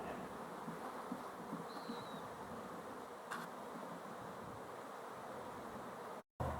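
Honeybees buzz steadily around the hives in a bee yard during a robbing attack, a dense faint drone with a passing bee whining close by briefly, ending in a short cut of silence.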